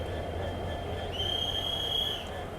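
A train hauled by a push-pull locomotive pulls out toward Rameswaram railway station, a steady low rumble under a high metallic wheel squeal that sustains for about a second, with no talking.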